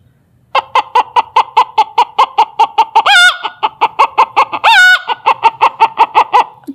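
A human voice imitates a hen's cackle after laying an egg: a steady run of loud, evenly spaced clucks with two drawn-out rising squawks in the middle, close and alone.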